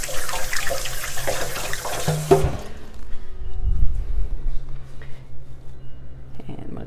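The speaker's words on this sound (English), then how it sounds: "I'm going to wash my hands" Kitchen tap running steadily while hands are washed, a loud close rush of water that cuts off after about two seconds, followed by quieter handling noises and low rumbles.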